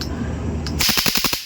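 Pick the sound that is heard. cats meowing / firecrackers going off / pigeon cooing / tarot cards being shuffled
firecrackers going off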